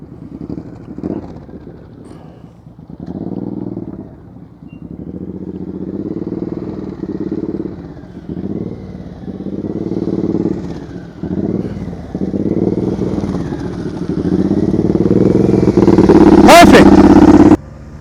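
A motorcycle engine runs at low speed through slow-speed riding practice, its low throttle note rising and falling in repeated pulses and swelling louder near the end, with people talking over it.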